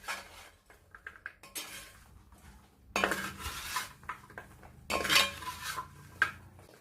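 A banana and jaggery sharkara varatti mixture is stirred in a pan, giving scattered scraping and clinking of a metal spoon against the pan in short bursts with brief pauses, close and fairly quiet.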